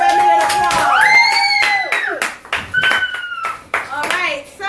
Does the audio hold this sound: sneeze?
no